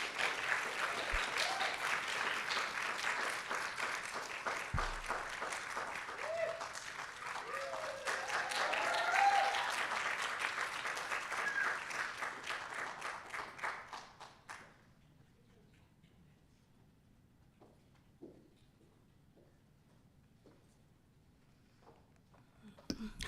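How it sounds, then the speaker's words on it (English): An audience at a poetry reading warmly applauds the poet Anastacia-Reneé after her introduction. The steady, full clapping lasts about fourteen seconds, then fades abruptly into a quiet room with only faint scattered noises. "can we get a great, beautiful round of applause for Anastacia-Reneé?"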